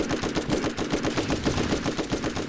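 Rapid automatic gunfire from a weapon in the Borderlands video game, a dense unbroken stream of shots rattling continuously and loudly for the full stretch.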